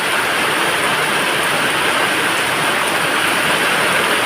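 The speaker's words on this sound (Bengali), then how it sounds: "খুব জোরে বৃষ্টি হচ্ছে, খুব জোরে।" Very heavy rain pours down in Siliguri, a dense, loud and continuous hiss that fills the air evenly from start to finish with no voices.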